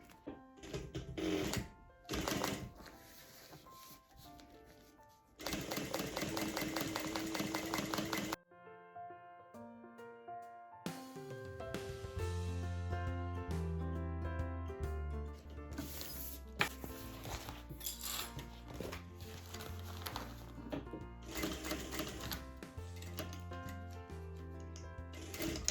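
A sewing machine threaded with pink thread stitches a hair-bow holder, running in loud steady bursts with short pauses between runs.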